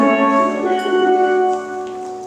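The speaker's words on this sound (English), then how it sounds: "The double second's main job is to strum, like a guitar player would strum chords." Double second steelband pans strum chords, their sustained metallic tones ringing together in a bright shimmering wash, close and alone.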